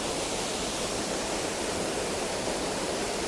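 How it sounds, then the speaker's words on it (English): A Lake District waterfall, Tom Gill, roars steadily and close by with a dense, even rush of falling water and no other sounds. "And now I'm down at the edge of the waterfall."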